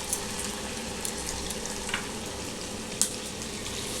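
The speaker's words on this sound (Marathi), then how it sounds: "एका साईडला कढईसुद्धा तापत ठेवलेली आहे छोटी. त्याच्यात तेल तापत ठेवलेलं आहे." Oil heats in a small kadai for frying sweet potato and potato patties, giving a steady, soft sizzle with faint crackles and an occasional sharper tick. It sounds close but fairly quiet, with no one speaking.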